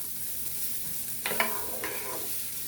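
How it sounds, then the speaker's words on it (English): Onions sauté in a pan with a faint, soft sizzle. A few quiet scrapes of a utensil come in the middle. "All right, so we're going to saute this for a couple minutes."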